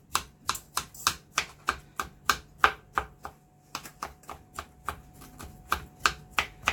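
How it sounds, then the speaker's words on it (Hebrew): A knife chops broccoli for cheese muffins in a home kitchen, making about twenty crisp, evenly spaced strikes on the board in a steady rhythm, close and alone without talk. "ואני קוצצת"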